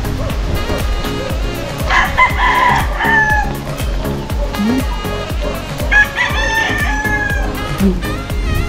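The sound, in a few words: chicken clucking and rooster crowing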